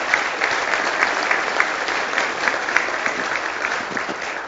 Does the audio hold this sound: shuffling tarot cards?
no